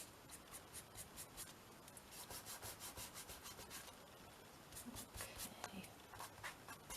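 Paper being distressed with ink by rubbing for an art journal page, close, soft, rhythmic scrubbing strokes in repeated bursts, faint and steady.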